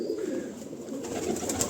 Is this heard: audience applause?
no